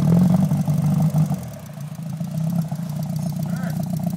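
Rebuilt VW Mk2 engine idling, a steady low hum at moderate loudness, louder at the start, with voices talking over it.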